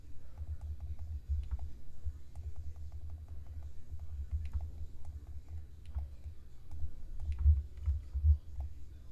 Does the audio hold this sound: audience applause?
no